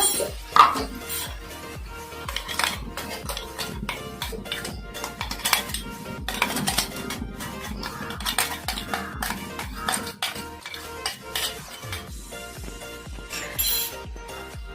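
Ground green chilli and coriander paste stirred into a softened tomato tempering in a metal pan, with repeated clinks and scrapes of a spoon against the pan in an irregular rhythm, close and alone without talk.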